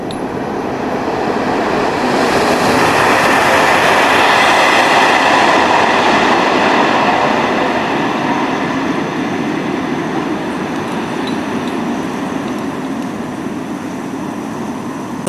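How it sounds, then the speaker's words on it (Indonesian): A Whoosh Jakarta-Bandung high-speed train races past a trackside spot in Purwakarta, a loud sustained broadband rush that swells to a peak and slowly fades, with no talking. "Kita akan melihat melintas ngebut bus kereta cepat Jakarta Bandung di lokasi ini."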